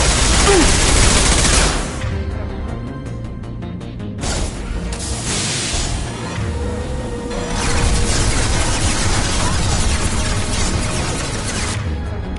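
Sustained bursts of weapon fire in the Mass Effect 2 Legendary Edition game, with dense rapid shots filling most of the stretch, briefly dropping near the two-second mark and resuming loud and continuous.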